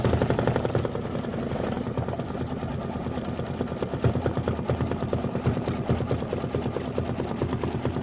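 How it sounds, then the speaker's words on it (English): Embroidery machine stitching a satin outline on a lemon quilt block, a close, continuous fast mechanical whir with a dense, even needle rhythm throughout. "we're going to stitch the lemon 3 satin outline"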